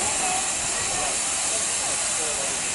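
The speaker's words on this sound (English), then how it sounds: "the locomotive is ready to pull forward" Steam locomotive 45407 Lancashire Fusilier vents a loud, steady hiss of steam close by, an unbroken rush that fills the whole moment with no voices heard.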